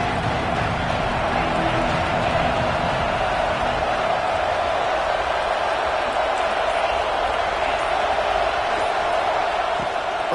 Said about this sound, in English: A big third down coming, and hotty-toddy, gosh almighty, this crowd is ready.